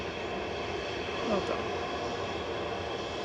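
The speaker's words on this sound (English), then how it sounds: "We've got OO-SSV departing, a little A319, over to the Belgian capital with flight 2184." A small Airbus A319 airliner departs Manchester Airport, its engine roar a steady, broad rumble heard from a distance, with a short spoken remark nearby.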